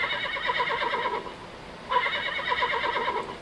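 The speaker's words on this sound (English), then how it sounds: "if you hear the sound of a horse whinny" Horse whinnying twice in close succession, each a shrill, wavering neigh with a trembling vibrato, heard fairly clearly with little else around it.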